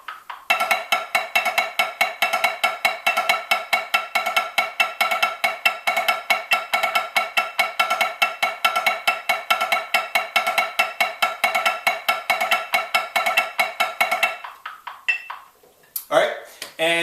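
Snare drum plays rapid, even 16th-note diddle groupings in a steady rhythm, loud and close, continuing for about fourteen seconds before stopping, followed by a brief burst of speech.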